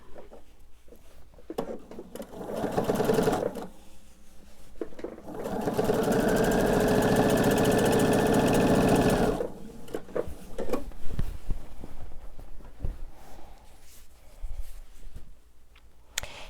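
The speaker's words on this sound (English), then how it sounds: "I am just going to sew this onto my quilt" A sewing machine stitching binding onto a quilt runs in bursts, with one long steady stretch of rapid mechanical stitching, plus rustling and handling noises between runs.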